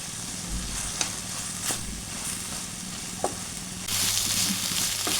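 Veg momo filling frying in a pan with pepper powder, a constant close sizzle broken by a few sharp spatula scrapes, the hiss swelling louder near the end, no voices.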